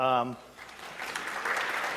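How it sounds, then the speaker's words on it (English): Applause from a crowd at a pageant follows a short spoken word, a steady wash of clapping that swells slightly toward the end. "Round of applause"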